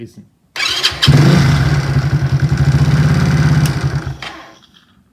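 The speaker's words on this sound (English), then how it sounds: "this is the sound of a eager motorbike" A supercharged postie motorbike fires up after a brief crank, settling into a loud, fast, throbbing idle close by before cutting off; someone speaks a word first.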